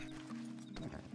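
A horse in the Red Dead Redemption 2 video game, heard in a short burst of close hooves and snorting with a brief whinny-like cry, over a steady low game soundscape.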